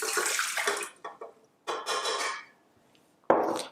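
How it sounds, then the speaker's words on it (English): Water pours into a mixing bowl for donut dough made without soy flour, in two splashing bursts with a pause between, then a short fresh splash at the end. "First, what I'll do is first I will add water."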